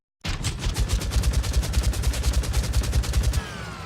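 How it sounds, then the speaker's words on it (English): A Doom chaingun sound effect from a video game bursts on abruptly and fires in a rapid, even stream of about thirty close, loud shots over three seconds, then cuts to a brief mechanical tail. "Yeah, solo that Chaingun out."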